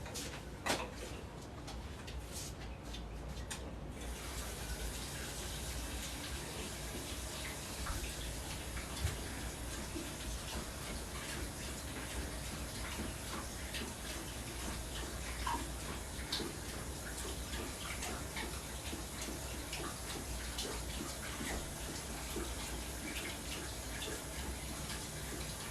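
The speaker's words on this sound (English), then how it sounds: "Let me give Bison some water" Tap water runs steadily to fill a dog's water bowl, a faint continuous hiss and splash with some small clicks and knocks at the start.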